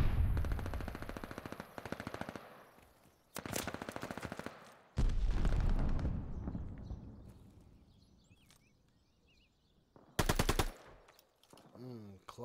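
Rapid automatic gunfire bursts from an online team match in a first-person shooter game, loud sharp rattling volleys separated by quieter stretches, with faint commentary voices mixed underneath.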